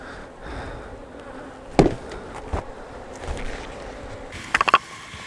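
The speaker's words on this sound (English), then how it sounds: "Get these bees here and there." Honeybees buzzing around a small nuc beehive outdoors, a soft continuous drone with a few sharper knocks and taps from handling the hive.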